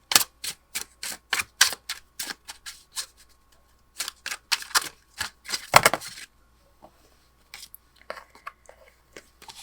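Pick-a-card deck cards being drawn and handled: a quick run of sharp, crisp clicks and snaps in bursts, then sparser, softer taps trailing off, close and dry with no talking.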